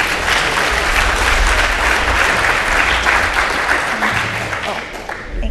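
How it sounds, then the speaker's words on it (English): A conference audience breaks into loud, dense applause at a tech talk on serverless Python, steady for several seconds before gradually thinning out near the end. "Let's give her a round of applause."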